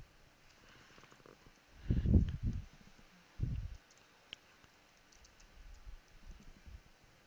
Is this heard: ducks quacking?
no